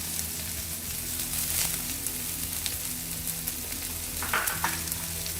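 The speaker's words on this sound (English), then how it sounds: "I have added about 2 tablespoons of the oil there. To it I will add the onion, okay." Onion fries in about two tablespoons of hot oil as the base for a chicken curry, giving a steady, close hiss and sizzle with occasional crackles and a low hum beneath.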